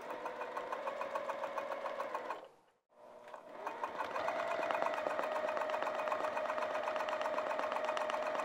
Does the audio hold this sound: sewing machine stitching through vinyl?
yes